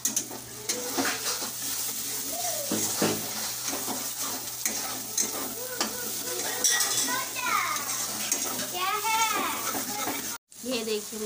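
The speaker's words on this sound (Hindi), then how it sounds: "ये देखिए मसाला को इसी तरह फ्राई करना है पूरा जलाकर" Spice masala of mustard, cumin, black pepper, garlic and coriander frying with salt in a pan for Bihari fish curry, sizzling under frequent stirring and utensil clatter while someone talks and children's voices chirp in the background.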